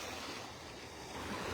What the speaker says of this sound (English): Gonna have to deal with a little wind noise, I guess, this morning if we want to do a beach walk.